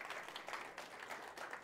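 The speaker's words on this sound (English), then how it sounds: "So give them a big round of applause." Congregation applause at a Sunday church service, a steady wash of clapping filling the short stretch at moderate level without pause.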